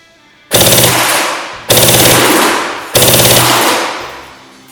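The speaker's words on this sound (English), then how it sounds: "we're going to fire another 3 bursts at the target downrange" A modified tactical AK fires three loud automatic bursts at a downrange target, each a sharp rapid rattle of shots that rings out and decays before the next burst, with no talk.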